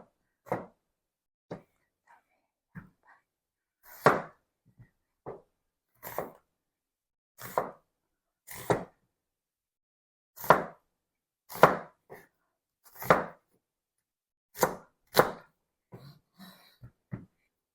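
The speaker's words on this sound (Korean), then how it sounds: "새송이 버섯도 새송이나 표고 뭐 있으시면은 똑같이 된장찌개 사이즈로 썰어 주시면 됩니다" A knife slices king oyster mushrooms into chunks on a cutting board, producing sharp, evenly spaced thuds roughly every second, close and fairly quiet, with near silence between cuts.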